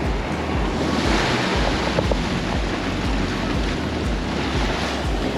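Gale-force wind roars over surf at Ningaloo Reef, a constant loud blast of wind noise buffeting the microphone with rolling waves beneath.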